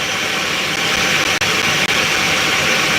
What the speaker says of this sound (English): I want to take off the skin using my blender